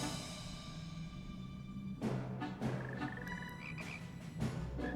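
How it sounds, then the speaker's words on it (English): Little frogs croak in Final Fantasy XIV: soft chirping croaks rise after the first couple of seconds over a steady bed of ambient game music, fairly quiet and close, with no one talking. "Oh, I like the little frog sounds."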